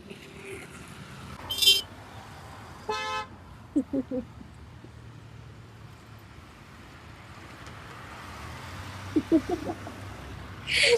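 Steady roadway traffic noise with several short car horn toots, some in quick bursts, and a louder horn blast near the end.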